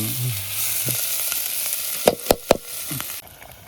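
Potatoes fry in a pan at a jungle campsite at night, a steady close sizzle with a few sharp clanks of a utensil against the pan partway through, then the sizzle cuts out near the end.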